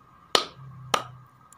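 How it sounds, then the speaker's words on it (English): Two sharp hand claps from one person, about half a second apart, demonstrating a counting-clap ice-breaker game during a public speaking class; close and crisp with quiet between them and no talking. "if I say clap two, you must clap your hands twice"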